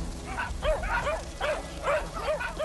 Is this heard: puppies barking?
yes